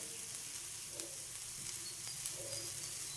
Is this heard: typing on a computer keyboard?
no